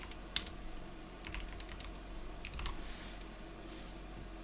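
Typing on a computer keyboard, a quick scatter of light key clicks in short bursts, faint and close, over a low steady hum with no talking.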